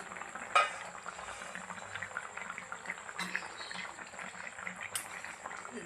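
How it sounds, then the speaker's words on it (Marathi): Chicken curry bubbles and simmers steadily at low volume in a covered pot, with a few faint clinks of a lid or utensil. "याला आपण पंधरा ते वीस मिनटं छान असं उकळू देऊया"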